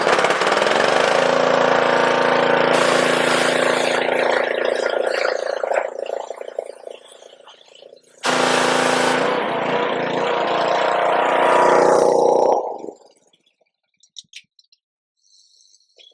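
A small power washer engine with a faulty carburetor bowl gasket runs loud and close with a steady rattling drone. It dips briefly, surges back for a few seconds, then cuts out, leaving a few faint clicks.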